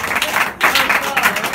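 Comedy club audience applauding for a stand-up comic, a steady dense wash of clapping with a brief dip partway through before swelling again, loud and close.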